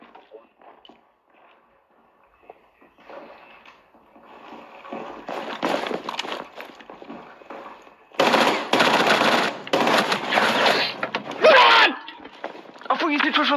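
Rapid automatic gunfire in a first-person shooter video game, faint at first then building into loud, dense bursts in the second half, with a voice speaking over it.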